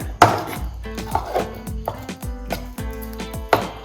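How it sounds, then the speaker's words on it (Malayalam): Soya chunks being stirred into a spice mixture for crispy fried soya, with a string of close, clattering knocks and scrapes in an irregular rhythm and no voices. "ഇനി ഇതിൻ്റെ അകത്തോട്ട് നമുക്ക് സോയാബീൻ ആഡ് ചെയ്ത് കൊടുക്കാം ആഡ് ചെയ്ത് കൊടുത്ത് നന്നായിട്ട് മിക്സ് ചെയ്യണം"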